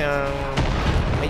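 A single heavy boom from a rocket launcher firing or an enemy rocket exploding in the shooter game Far Cry 5. It comes loud, over a sustained droning tone of game audio.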